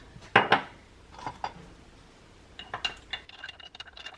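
Spoon clinks and scrapes inside a reused glass jar while spices and black pepper are stirred: two sharp knocks first, then lighter, quicker clattering taps near the end.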